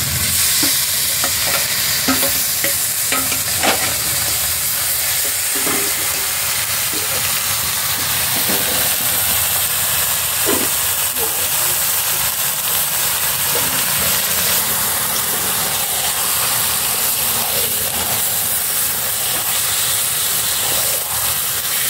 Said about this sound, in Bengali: এবারে দিয়ে দিচ্ছি চিকেন।